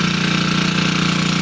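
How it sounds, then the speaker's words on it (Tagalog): A hand tractor engine runs loud and close while plowing a field, a steady rapid knocking putter with a constant even drone and no voices. "yung traktor, kasi umuugong kaya yan"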